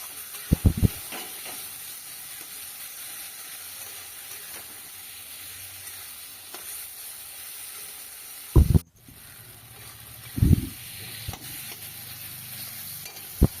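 Oil sizzling under a frying kachki fish curry with potatoes: a continuous hissing fry, loud and close, broken by a few sharp clunks of a spoon against the pan, no talking.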